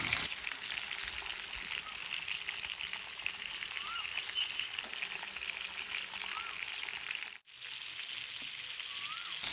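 Fish pieces fry steadily in a pan for a fish dum biryani, a continuous soft crackling sizzle with small pops, briefly dipping near the end, no voices.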